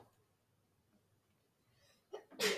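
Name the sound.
sneeze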